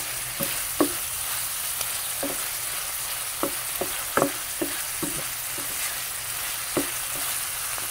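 Mussel adobo with oyster sauce sizzles steadily in a pan while a spoon stirs through it, giving scattered clicks and taps of shells and utensil against the pan, close and continuous, without talk.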